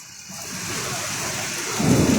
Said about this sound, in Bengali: কেউ ভাবছিল যে এখন এত জোরে বৃষ্টি হবে